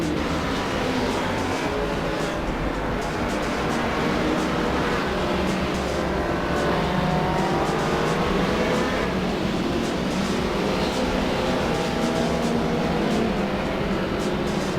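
Touring cars, including a BMW E30 M3 DTM and Alfa Romeos, race around Vallelunga in the Assetto Corsa sim, a steady dense engine drone held loud throughout with no talk over it.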